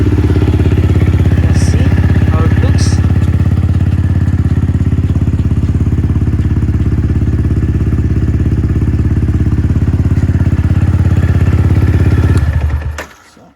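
Yamaha R15 V3 motorcycle fitted with an Akrapovic slip-on exhaust idles loudly and close by with a steady, throbbing rumble, then cuts off abruptly near the end; no one speaks.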